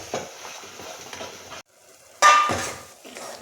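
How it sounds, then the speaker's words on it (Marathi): Turmeric, homemade masala and pav bhaji masala are stirred and fried in oil in a pan, giving close scraping and sizzling that drops out briefly before a louder scrape returns. "आता याला चांगलं मिक्स करून तेल सुटेपर्यंत परतायचं."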